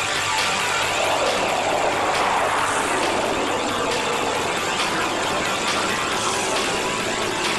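Thunderbirds jets fly a crossover break, making a steady, loud roar of jet engines that swells slightly and holds throughout without a clear pass-by peak.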